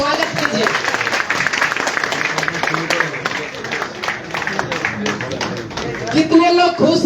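Audience applause welcoming a guest at an indoor event, a brisk crowd of hand claps lasting several seconds, mixed with talk.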